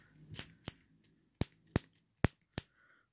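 Six sharp snips of scissors cutting yarn loops on a crocheted chick, in an irregular rhythm, each crisp and close, with near-silence between them.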